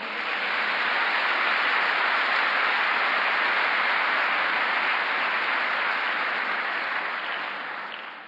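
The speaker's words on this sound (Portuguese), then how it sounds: "Dá um aplauso ao Senhor." A church congregation at a Sunday service applauds, a dense, steady wash of many hands clapping that holds for several seconds and then begins to fade, with no talking over it.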